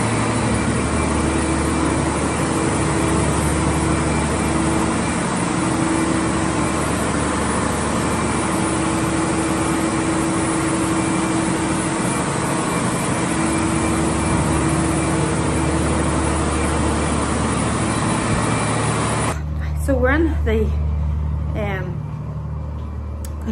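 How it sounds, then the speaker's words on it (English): Two 250 kW engines at a 500 kW anaerobic digester plant run with a steady, loud low drone and hum that fills the space; a voice speaks briefly near the end. "that's the noise of the two engines."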